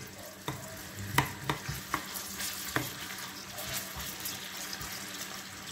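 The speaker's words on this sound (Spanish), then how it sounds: "para aquí he puesto el aceite, le voy a poner la cebolla" Chopped onion frying in hot oil for Galician-style hake, a steady close sizzle broken by sharp clinks and scrapes of a utensil stirring the pan, with no one talking.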